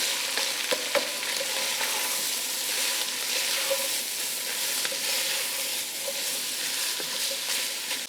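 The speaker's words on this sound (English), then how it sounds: "I'm gonna go ahead and cook our onions and peppers with our beef." Onions and peppers fry with beef in a pan for chili, giving a steady, close, dense sizzle that crackles evenly throughout with no voices.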